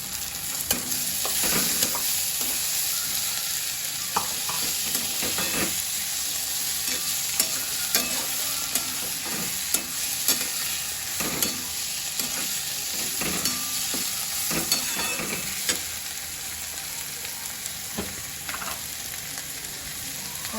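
Green onions and tomatoes fry and sizzle in a pan for masala dosa filling, a steady close crackle broken by repeated scraping strokes of stirring, with no voices.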